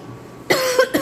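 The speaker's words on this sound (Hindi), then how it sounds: "सॉरी खांसी आ गई" A person coughs twice in close succession, a loud sharp burst followed by a second shorter one, close to the mic in a quiet indoor space with no talking.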